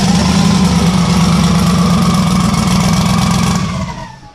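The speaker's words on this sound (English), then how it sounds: "That spool sounds amazing." A turbocharged engine runs loud and steady up close, with a rising whistle of the turbo spooling over the rumble before it winds down.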